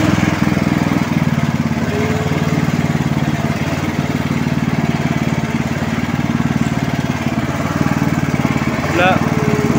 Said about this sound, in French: Maintenant, je vais mettre la tondeuse en place.